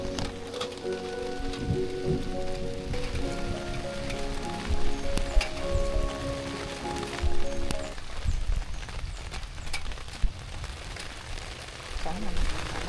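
Steady rain patters on a surface with constant hiss and scattered drops, while sustained musical tones and a voice sound faintly underneath.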